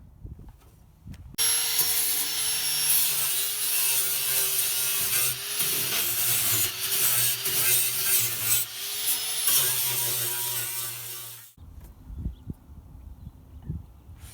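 A power tool grinds and cuts the rusty floor pan of a Jeep TJ, giving a loud, continuous abrasive whine with shifting pitch for several seconds, ending abruptly into quieter scraping and clunks.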